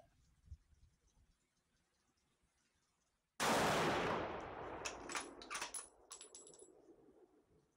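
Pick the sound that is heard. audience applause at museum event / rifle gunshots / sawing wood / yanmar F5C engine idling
rifle gunshots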